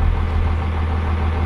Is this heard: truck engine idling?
yes